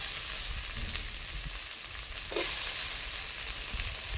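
Grated ginger and chopped tomato sizzle and fry steadily in a pan, with a faint scrape of stirring and a brief spatter, close and continuous.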